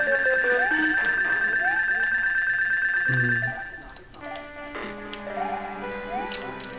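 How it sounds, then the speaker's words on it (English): A mobile phone rings with a bright, repeating electronic melody that plays over video game music and effects, then fades as the game sounds continue. "I gotta learn to turn off my phone whenever I'm recording."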